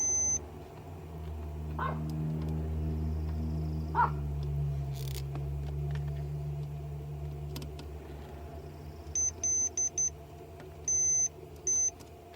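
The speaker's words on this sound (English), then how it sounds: "all three of these are now making a tone on one side, and this chip here is also making a tone" With the ignition on, EEPROM chips in a Honda Fit give off short, high electronic tones. A few quiet beeps come in a broken pattern over a low, steady hum, with no talking.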